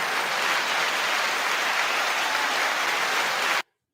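Applause, a dense even wash of clapping that holds steady for several seconds and then cuts off abruptly into silence.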